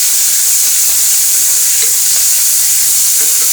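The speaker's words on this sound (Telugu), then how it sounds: "ఇలా గంగవాయల కూర మొత్తం వేసుకున్న తర్వాత ఒకసారి మంచిగా కలుపుకోవాలి." Gangavaayili leafy greens frying in oil for a traditional Telugu curry, stirred in the pan. A loud, steady hiss of sizzling fills the whole stretch, with faint scrapes of the spoon underneath and no talking.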